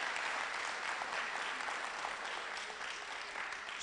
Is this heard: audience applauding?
yes